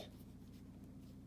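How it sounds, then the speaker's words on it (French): Short scratching strokes of a pen or pencil writing numbers by hand on paper in a primary-school math lesson, a faint close scribble with no talking. "Je viens et j'écris ici 31."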